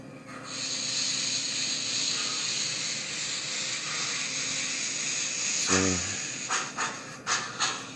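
An MTH HO-scale Big Boy No. 4005 model steam locomotive hisses steadily, then a rapid low chuffing bursts out, followed by several separate puffs of steam as it starts to move.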